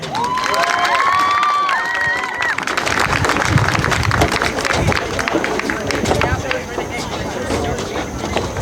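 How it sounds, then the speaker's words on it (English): Crowd at a high school field hockey game cheering and clapping on senior day, with shouts and whoops over steady applause after the first seconds. "Round of applause for Channing Morengi."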